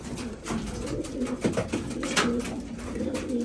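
Young pigeons coo softly and repeatedly outdoors after being let out of their loft, low throaty calls rising and falling over a faint background hiss, with no talking.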